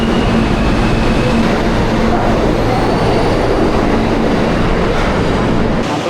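Loud, steady rumble of a crowded New York subway train running between stations, with an unbroken low roar and faint rail tones held throughout, heard alone with no talking.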